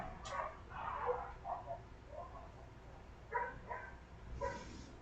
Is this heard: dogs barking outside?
yes